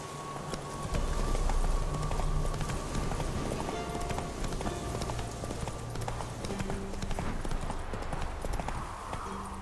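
Game horse galloping in The Witcher 3, steady clip-clop hoofbeats running throughout at close range, with game music and ambient sound underneath and brief speech.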